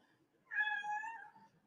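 A cat gives a single clear meow indoors, soft and fairly close, rising then tapering over about a second in an otherwise quiet room.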